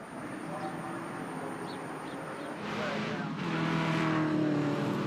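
V8 ute race cars roar around the Pukekohe circuit, engines droning and swelling louder as they near, with commentary talk running over the noise.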